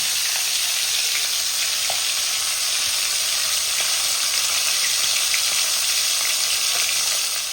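Live koi fish fry in hot oil in a pan, a steady, dense sizzle that carries on close and loud throughout with faint pops and no talking.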